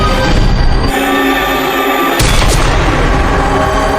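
Loud, booming rifle gunshot in a film action scene, with a sharp blast cutting through a dense, continuous soundtrack.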